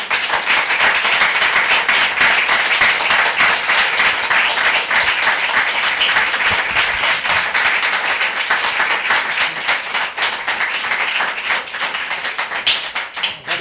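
Sustained audience applause after a poetry reading, dense steady clapping from many hands filling the room at a loud, even level, easing slightly toward the end.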